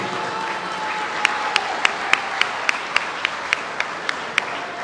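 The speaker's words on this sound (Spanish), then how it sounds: "pido un aplauso para ella" Audience applause for Colombian culture minister Patricia Ariza at a culture and peace forum, a steady broad wash of clapping with sharp individual claps popping out regularly near the front, sustained throughout.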